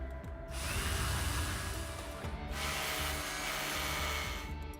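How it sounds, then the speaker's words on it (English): A shrill, dentist-like drilling sound effect from the video game Goddess of Victory: Nikke whines loud and continuous in two long sustained bursts, alone without voices. "The sound effects remind me of like dentists drilling in your teeth"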